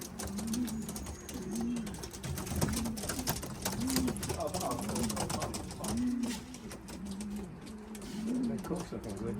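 Racing pigeons home from a young bird race coo in a repeating rhythmic pattern, close by, with faint background chatter and occasional rustles.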